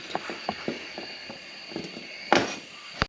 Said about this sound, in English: Big ratchet going to adapter to another adapter to an extension, and trying to break so much loose